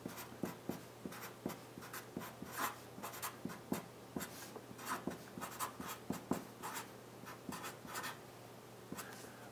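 Pen or pencil writes by hand on paper, marking geometry symbols and a measurement; close, faint scratchy strokes in an irregular rhythm of short taps and scribbles, with a low steady hum behind, no talk.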